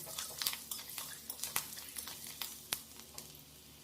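Nigella seeds, bay leaf and green chilli tempering in hot oil, a quiet sizzle with repeated light clinks and scrapes of a utensil against the pan.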